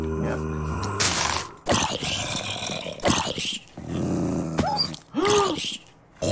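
A dog, a tamed wolf in Minecraft, growls and snarls in repeated rough bursts, loud and close, mixed with other game creature sounds and no talking.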